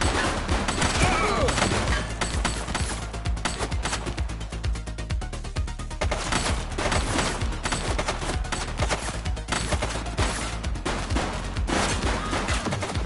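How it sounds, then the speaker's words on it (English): A sustained barrage of gunfire during a police shootout, loud and close, with rapid overlapping shots and crashing impacts rolling on continuously without a break. "Shots fired!"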